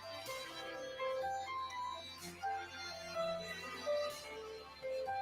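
A phone rings with an incoming WhatsApp call during a radio program, a repeating melodic ringtone in regular bursts over a low hum, with no talking.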